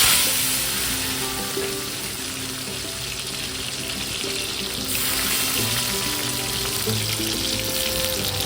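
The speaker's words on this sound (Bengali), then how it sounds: "এক কড়াইয়ে চিংড়ি ভাজা বসিয়েছি আর এক কড়াইয়ে আলু ভাজতে বসিয়েছি" Prawns and potatoes fry in two separate woks on a home stove, making a steady, dense sizzle with a watery hiss and a few faint stirring sounds. No one speaks.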